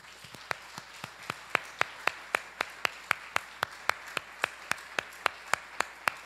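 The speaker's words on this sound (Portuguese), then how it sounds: "Aplaude o Senhor Jesus" A church congregation claps in a steady, even rhythm during a worship service, the claps faint and distant but evenly spaced throughout.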